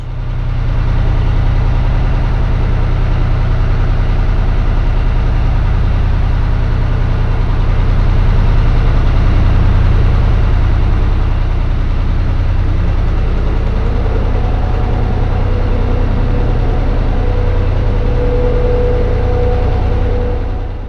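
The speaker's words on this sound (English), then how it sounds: "And that's the sound of the extractor fans." A constant low, heavy droning roar of large extractor fans running inside the Harecastle canal tunnel, steady and loud for the whole stretch, with no voices.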